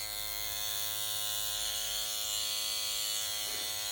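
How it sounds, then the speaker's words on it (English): Centri MP5 cartridge tattoo machine running steadily, a close, continuous high-pitched electric buzz with a constant hum and no talking. "what's interesting about this tattoo machine is that the longer you put your needle out, the longer the stroke becomes"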